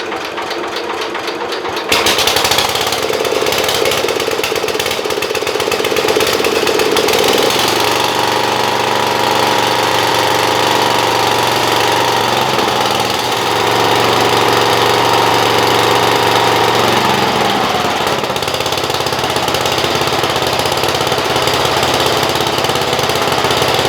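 A Gilson machine's engine fires up after a brief quiet moment, then settles into a loud, busy, steady chug at its idle throttle setting, with no voices over it.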